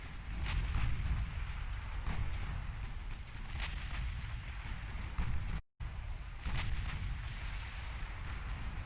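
Naval guns fire in the Ultimate Admiral: Dreadnoughts game, a continuous heavy rumble broken by repeated booming blasts at uneven intervals, with one brief dropout of sound partway through.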